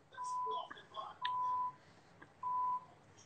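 A phone's low-battery warning gives three steady electronic beeps at a moderate level, evenly spaced over faint background noise with no speech over them.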